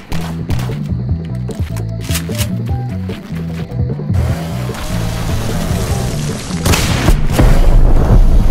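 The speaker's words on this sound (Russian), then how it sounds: "в виде взрыва ядерной бомбы" A nuclear bomb explodes in the Roblox video game, a loud rumbling blast that swells and keeps building in the second half over rhythmic game music.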